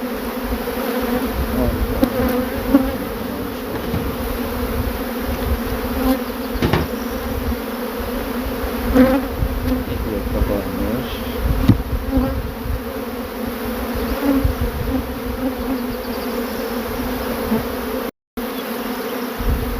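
A swarm of honey bees buzzes continuously nearby, a steady droning hum with individual insects swelling louder as they pass close.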